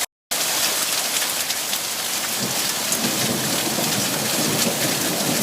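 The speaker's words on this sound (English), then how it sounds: "Well, it's hailing now." Hail and heavy rain fall steadily outside a waterlogged window in spring, a dense, even hiss of pattering impacts that runs unbroken after a brief silent start.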